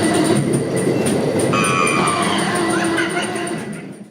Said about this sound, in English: next up we are taking a ride on the ghost train